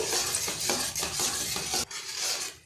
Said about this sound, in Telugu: యాలకుల పౌడర్ అండి కొద్దిగా యాడ్ చేస్తున్నాను వేసి మొత్తం కలిపేద్దాము